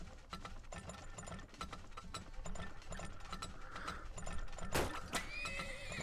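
A horse neighs in the video game Turmoil over a steady bed of mechanical clattering and hoof-like clip-clop, with a sharp bright burst near the end.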